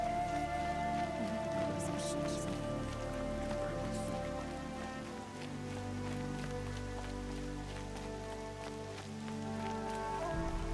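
Rain patters steadily on a surface in the video game Horizon Zero Dawn, a dense continuous hiss over a low tonal hum, with faint voices mixed in.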